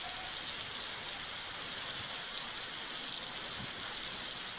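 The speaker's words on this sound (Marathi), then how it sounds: "सकाळपासून पावसाची संततधार सुरू आहे." Heavy, continuous monsoon rain in Ratnagiri in the Konkan region, a dense steady hiss of downpour with no breaks, loud and enveloping, no voices.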